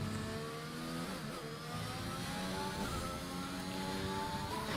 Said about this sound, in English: The Ferrari enters the pits, with the Mercedes taking a lap right now.